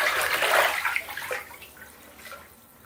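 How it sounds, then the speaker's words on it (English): A Blood Orange bath bomb fizzing in a tub of bathwater, heard as a soft hissing, watery wash that is strongest at first and then fades to a faint fizz, close by with no talking. "I still have a little bit more bomb going off."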